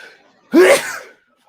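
One loud, close sneeze bursts out abruptly and trails off into a brief breathy tail, set in a casual indoor conversation.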